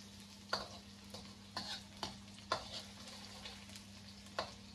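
Garlic browns in a little oil in a pan, with a quiet, steady sizzle punctuated by several distinct spatula taps and stirs at irregular intervals.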